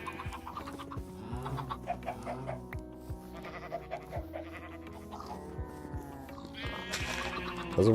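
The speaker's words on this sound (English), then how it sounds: "So and then we just need to get a chicken." Minecraft chickens clucking in short bursts over steady game background music, a few soft clucks and squawks scattered through the stretch, with a louder squawk near the end.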